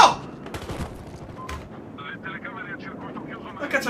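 Gunfire in the Battlefield Hardline video game, scattered shots and short automatic bursts at mid distance beneath someone talking, with a sharp louder report near the start.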